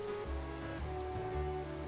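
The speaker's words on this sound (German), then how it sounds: "jetzt regnet es sogar noch" Rain in the Minecraft video game, a soft continuous patter of falling drops under a low steady hum, quiet and even throughout, no talking.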